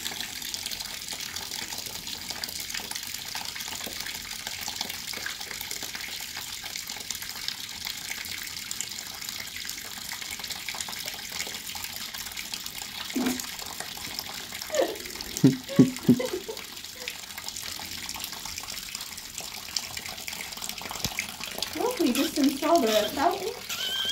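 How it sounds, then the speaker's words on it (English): Water gushing and leaking from an aqua bag as someone sits on it, a continuous rushing wash with occasional splashy bursts and people talking over it. "Looks like you got a leak there."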